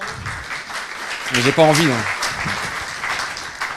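A conference audience applauds in a hall, a broad wash of clapping running throughout while someone speaks over it in the middle.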